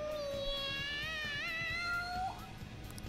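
Morgana, the cat in Persona 5, lets out a long, drawn-out meow that rises and wavers before trailing off, heard clearly over a low game background.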